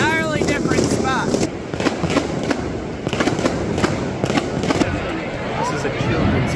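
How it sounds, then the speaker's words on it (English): Fireworks bursting during the Fallas festival in Spain, a rapid series of sharp cracks and bangs in close succession, loud and near, over crowd noise and some talking. "fireworks started again at an entirely different spot"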